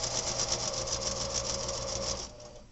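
A sewing machine stitches fabric in a fast, steady mechanical whir with rapid needle clatter, running continuously up close before stopping abruptly near the end.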